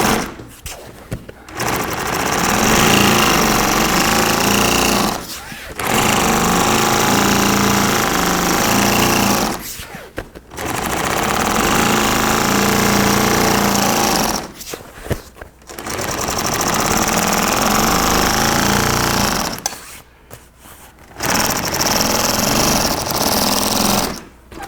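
A sewing machine stitches boat bimini canvas for a 38-foot Sea Ray in loud, close bursts of rapid mechanical chatter, four runs of several seconds each separated by short quiet pauses, with no talking.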